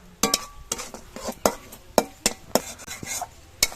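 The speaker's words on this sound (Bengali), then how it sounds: "কাজু বাদাম বাটার দিয়ে কিন্তু অনবরত নাড়তে হবে" Cashew butter paneer masala stirred in a pan, a spoon scraping and clinking against the metal in a quick irregular series of bright strikes, close and fairly loud with no talk.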